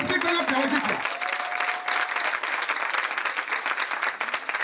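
A church convention congregation claps and cheers in a dense burst of applause, loud and sustained, with a voice calling out at the start and singing-like tones mixed in.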